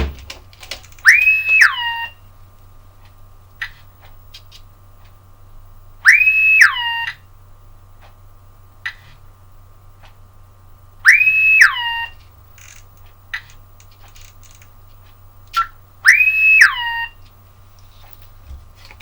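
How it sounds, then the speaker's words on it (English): An electronic alarm on an RC truck's electronics chirps in four short, rising beep bursts spaced about five seconds apart, with a low steady hum beneath and quiet clicks between. "I really should have turned the alarm off on this."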